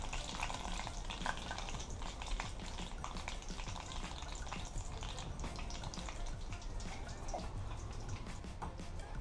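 Chicken pieces fry in hot oil in a pot, Jamaican style, with a dense, steady crackling sizzle and fine popping spatter running throughout, close by.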